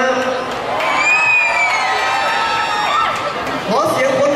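A big concert crowd screams loudly and continuously, high-pitched shrieks and whoops rising together in a sustained wall of noise.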